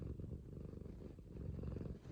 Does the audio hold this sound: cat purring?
yes